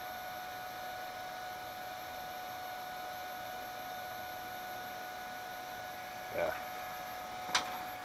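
A belt-driven spindle motor, run from a fake Huanyang VFD, drones on with a steady hum and constant whine, joined by a couple of brief clicks near the end.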